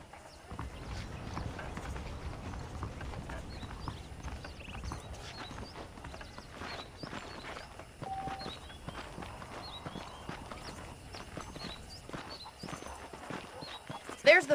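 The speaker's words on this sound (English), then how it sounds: "The horses are saddled up over here." Horse hooves clip-clop steadily at walking pace in the Red Dead Redemption video game, close and moderately loud under continuous talk and faint ambient game sounds.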